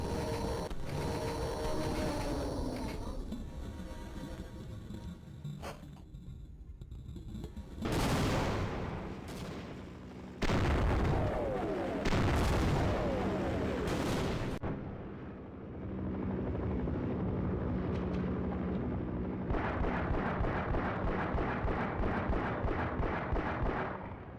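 Underwater gunfire against aliens in a first-person shooter, Duke Nukem 3D or Half-Life, with repeated loud shots and booms over a churning, muffled rumble and no talking.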